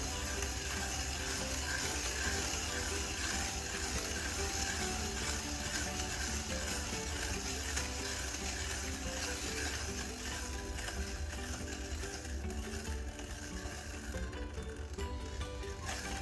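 POTU flat burr hand grinder crushing coffee beans, turned by hand with a continuous close ratcheting, gritty crunch that keeps a steady rhythm throughout.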